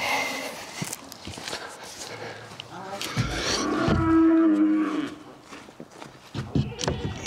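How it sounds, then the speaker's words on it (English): Cattle on a pasture low and bellow loudly, one long moo standing out among scattered shorter calls and shuffling, with faint voices nearby. "cows are hollering at Jeri and Mallory as they rode their bikes by"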